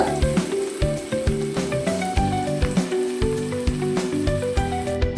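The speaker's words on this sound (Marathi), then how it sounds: "त्याला पण आता तेलामध्ये छान असं परतून घेऊ ब्राऊन कलर येईपर्यंत" Finely chopped onions fry in hot oil in a pan for pav bhaji, a loud, steady sizzle with crackling pops and occasional stirring scrapes throughout.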